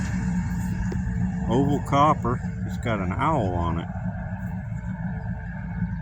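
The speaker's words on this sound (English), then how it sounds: "Sorry for the noise. I'm right beside the highway." Traffic from a highway running beside a field makes a steady low rumble that carries on beneath a man's close speech.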